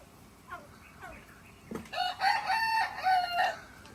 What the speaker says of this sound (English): Yep, I hear you, chicken.